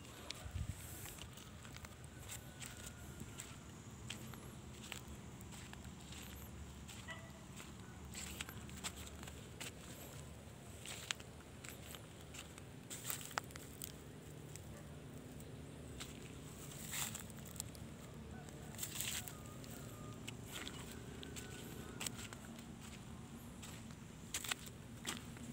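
Rain falling outdoors on a search for agate stones, a steady soft patter with scattered drip ticks throughout, fairly faint and continuous with no talk over it.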